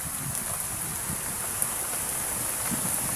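Heavy rain pouring steadily with wind, a dense even hiss with no pauses and no voices.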